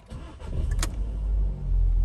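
A salvage Fiat 500X engine cranks briefly and catches, then settles into a steady, loud idle rumble with no talking over it.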